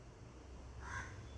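A single short cuckoo call sounds faintly in the background, brief and soft over a low steady hum.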